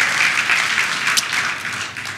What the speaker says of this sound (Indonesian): Berikan tepuk tangan yang paling meriah buat Tuhan kita saudara.